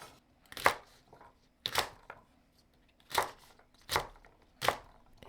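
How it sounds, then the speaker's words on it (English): Knife chopping garlic scapes into sections on a board, five crisp, separate chops spaced about a second apart against a quiet background. "Cut them into sections."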